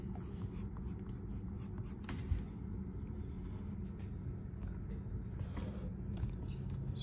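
Pencil or pen scratching short strokes on paper while drawing dinosaur scales for a baby T. rex, steady and close over a low background rumble, with no talking.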